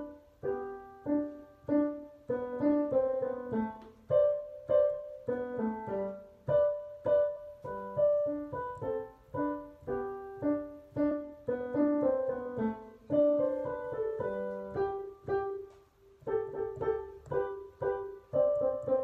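A beginner-level piano piece from the ABRSM prep test, played alone as a steady run of clear single notes in a simple repeating rhythm with short pauses between phrases, close and moderately loud.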